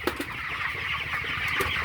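Chickens on a poultry farm cluck softly in a few short calls, moderately close over a constant low hum, with no voices.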